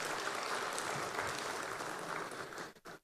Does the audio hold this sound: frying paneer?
no